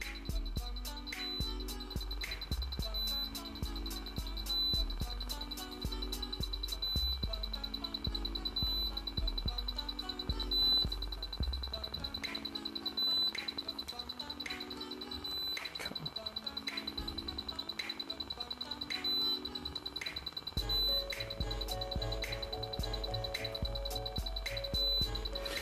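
A steady series of short electronic beeps from an Autel Evo drone remote controller during stick calibration repeats in a regular rhythm, with brief tonal chirps between, no talking.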